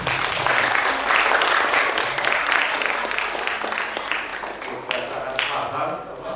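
Applause from an audience, apparently at a school event at MI Yapisthon, with dense steady clapping that fills the whole stretch, fairly loud, and a voice speaking over it.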